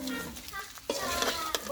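Meat for a spicy Bangladeshi meat pitha fries and is stirred in a pan, making a short burst of close sizzling with a few scraping strokes.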